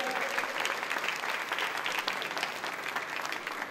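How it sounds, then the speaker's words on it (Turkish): Wedding guests in a packed hall applaud the bride, a dense, steady wash of many hands clapping throughout with faint voices mixed in. "O zaman gelin hanıma şöyle bir alkışlarımız gelin hanıma gelsin."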